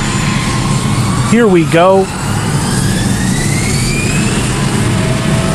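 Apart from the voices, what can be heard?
jet aircraft engines at full power for takeoff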